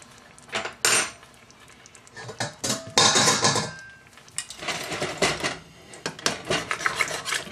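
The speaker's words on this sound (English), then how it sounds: "It's time to put the stewed tomatoes in. Dump the whole can." A can of diced tomatoes with Italian spices is dumped into a pot. Metallic scrapes, clanks and rasping taps of can and utensil against the pot come in irregular close bursts, with no one speaking.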